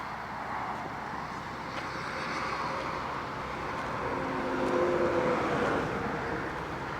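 Steady traffic noise along a highway beside a truck sales and repair lot, a continuous broadband roar of passing vehicles that swells slightly midway, with no talk over it.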